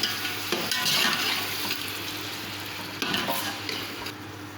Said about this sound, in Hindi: अब ये सारे टमाटर डाल दूँगी।